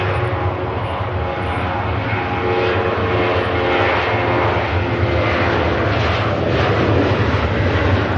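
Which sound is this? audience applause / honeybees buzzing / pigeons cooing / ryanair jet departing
ryanair jet departing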